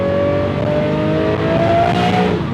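A Lamborghini Murcielago LP640 engine climbs steadily in pitch under hard acceleration, loud and close from inside the car, with a dense growl holding throughout and nobody speaking.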